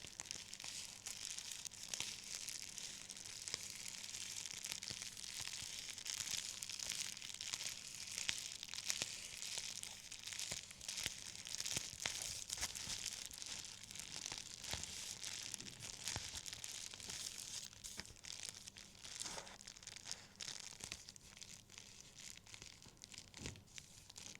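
Bubble wrap is crinkled and crackled continuously up close, a dense patter of tiny pops and rustles with no voices.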